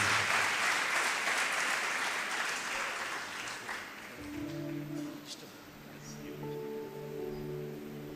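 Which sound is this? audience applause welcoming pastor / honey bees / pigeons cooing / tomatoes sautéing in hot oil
audience applause welcoming pastor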